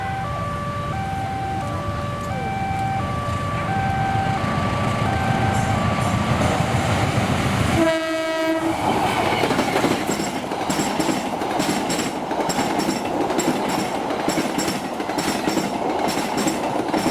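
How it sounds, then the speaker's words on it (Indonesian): Bogowonto passenger train from Lempuyangan station passing close by with steady rumbling and clickety-clack of wheels on rail, a loud horn blast midway, then continuing rolling noise. "Pada pukul 17:10 barusan lewat kereta api Bogowonto So 35 dari stasiun Lempuyangan"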